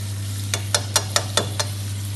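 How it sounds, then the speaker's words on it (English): Stockfish dusted in flour deep frying in oil until crispy: a soft sizzle over a steady low hum, punctuated by six evenly spaced clicks of a utensil against the pot. "And deep fry until it gets nice and crispy as well"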